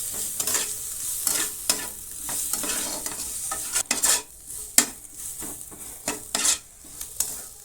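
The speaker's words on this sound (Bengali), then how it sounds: "সব কিছু দিয়ে ভালো করে মিশিয়ে নেব" Turmeric, chilli and coriander powders are stirred in a frying pan for a paneer roll filling, with repeated sharp metal scrapes and clinks over a soft sizzle, close and with no talking.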